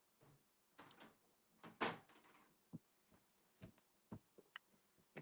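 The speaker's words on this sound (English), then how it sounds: "Shut my door." A bedroom door is shut with a clear close thump, followed by scattered light knocks and clicks in a quiet room, near and moderately soft, with no voices.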